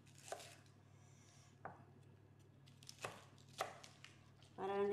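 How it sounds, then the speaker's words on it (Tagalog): A knife slices kas (lettuce) for salata, giving a handful of separate crisp cutting thuds on a board in a quiet kitchen, followed by a louder rustling clatter at the end. "Ngayon naman, hihiwain natin ang kas."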